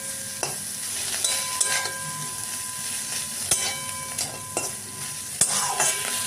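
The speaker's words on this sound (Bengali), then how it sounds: "দেখো বন্ধুরা, চিংড়ি মাছ পেঁয়াজটা ভাজা হয়ে গেল।" Prawns and onion sizzle steadily in a frying pan while a utensil stirs them, with sharp scraping clicks against the pan recurring every second or so over the constant hiss.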